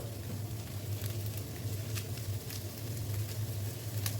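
Chili pepper fries lightly in a pan, giving a soft, steady low sizzle with faint crackles throughout, no talking.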